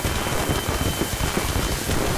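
Steady, dense rain in the video game Hitman: Absolution, pattering continuously on a surface, a broad hiss with no breaks and no voices.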